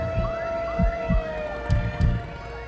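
Ambulance siren wailing in sweeping rising and falling tones, moderately loud, with low thumping pulses underneath.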